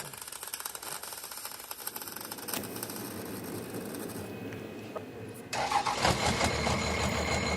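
A diesel-swapped Torino wagon's engine cranks and fires, settling into a loud, steady rough idle that surges harder after a few seconds, close up in a fuel-soaked car late at night.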